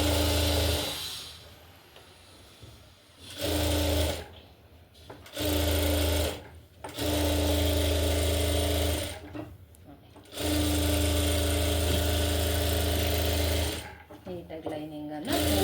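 A sewing machine stitches the lining of a designer blouse in several bursts of fast, steady whirring, each a few seconds long and separated by short pauses, while someone talks in between.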